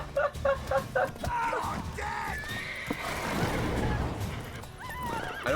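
A horse in the video game Witcher 3 gives a loud, close whinny over clip-clopping hooves, then neighs again as game sounds and a voice sit underneath.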